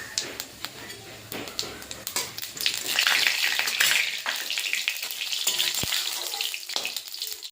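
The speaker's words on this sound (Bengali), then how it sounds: "এবার সর্ষের তেল দিয়ে দিলাম, দিয়ে একটা শুকনো লঙ্কা ফোড়ন দিয়ে দিলাম, আর দিলাম গোটা জিরে" Dried red chilli and whole cumin seeds crackle and sizzle in hot mustard oil in a kadai, a steady close frying hiss with sharp pops and the scrape of stirring throughout.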